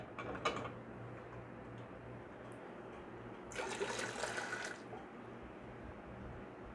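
Hot sterile water poured into a clean pan while canning green beans, a soft splashing burst of about a second, close, over a quiet steady background hum.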